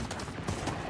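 Dense, continuous burst of gunfire in Call of Duty Modern Warfare Zombies, a fast crackling volley that stays loud and busy throughout with no talk over it.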